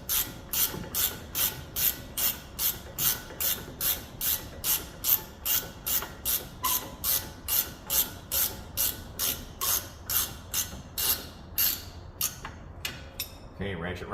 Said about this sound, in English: ratchet wrench isn't clearing no more